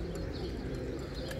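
Pigeons crowded on a rooftop coo softly in a low, continuous murmur, with a few faint chirps above it, heard from a short distance with no talk.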